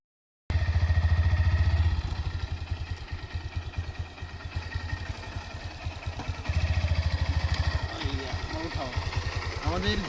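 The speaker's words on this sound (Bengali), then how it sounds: "আমরা মোটর সাইকেলে নিয়ে আসি।" A motorcycle engine runs in a rural village, its rapid steady thumping close and continuous throughout, with people talking over it.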